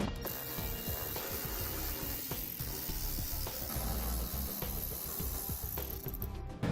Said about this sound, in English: We're going to be using a 10mm socket here on this bolt